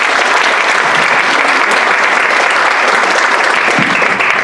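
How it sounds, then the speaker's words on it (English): A storytelling event audience breaks into dense, sustained applause, steady and loud, with many hands clapping together for several seconds and no talk standing out. "let's give a round of applause."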